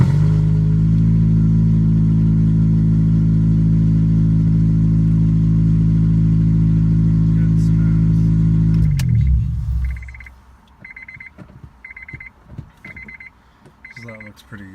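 A turbocharged Honda DC5 engine idles steadily and loudly for about nine seconds, then cuts off, leaving quiet background with faint repeated beeping tones.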